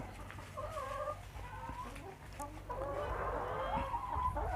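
Egg-laying hens let out of their coop to roam cluck and chatter nearby in short, varied calls, with a louder burst of clucking toward the end over a low background hum.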